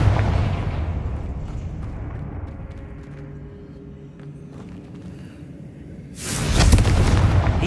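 In the video game Hogwarts Legacy, Confringo spells blast eggs apart: a deep rumbling boom fades into a low ambient hum, then a second loud, broad explosion bursts in and keeps roaring.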